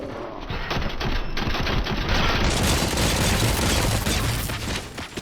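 Dense, continuous gunfire from the Robocop Rogue City video game: rapid overlapping shots form a loud, steady barrage that runs through the whole stretch without a pause.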